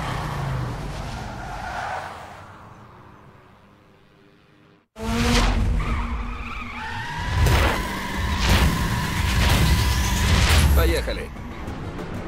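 Cars race fast and skid in The Crew driving game, with engine roar and tire squeal swelling after a brief drop to near silence midway, loud and continuous with voices talking over it.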